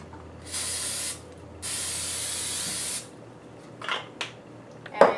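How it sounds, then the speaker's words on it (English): Two sustained hissing bursts of aerosol spray, about a second each, followed by a few light clicks and clatters of a pan. "heat up just at a low temperature this pan right here. Spray it with some spray."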